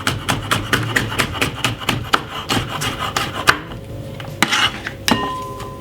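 Knife slicing new potatoes on a chopping board, a steady run of close, crisp cuts and taps that thins out toward the end with a few scattered knocks.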